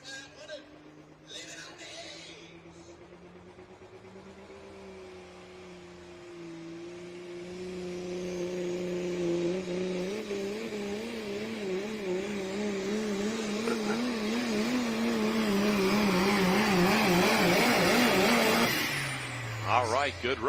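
A Ram truck thunders down the track at a truck pull, its engine roar climbing and wavering in pitch as revs rise and bounce, building to a loud peak before cutting off, while an announcer talks throughout.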